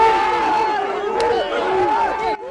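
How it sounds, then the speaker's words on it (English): Massive angry crowd of protesters facing off against police at a NATO conference outside McCormick Place, Chicago: a dense, continuous roar of shouting voices with rising yells, loud and close throughout. "Chicago police face off against a massive crowd of angry protesters"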